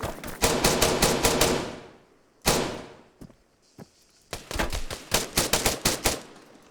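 Automatic weapons fire rattles through a combat scene in the military shooter Arma 3: a long close burst of rapid shots, a brief lull with scattered single cracks, then another dense volley of rapid fire.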